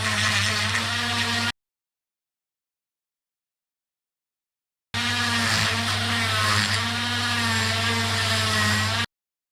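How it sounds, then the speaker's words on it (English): A whirring end brush scrubs the seal grooves and casing of a motorbike brake caliper: a steady buzzing drone for about a second and a half, a silent gap, then a longer continuous whir of several seconds. "we're going to use an end brush and we're going to do the actual flats of the seal grooves as well as the bottom of the caliper casing"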